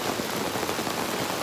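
Rain falls steadily in a dense, even hiss of drops spattering on surfaces, close and constant with no other sounds.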